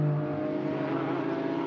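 An Audi race car's engine drones steadily during the 2023 Sepang 12 Hours endurance race, a continuous far-off roar with no breaks and no voices over it.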